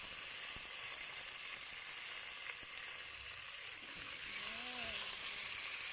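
Pink salmon fries in a pan with ginger, a steady bright sizzle of hot oil running throughout with occasional soft clicks and stirring, no talk.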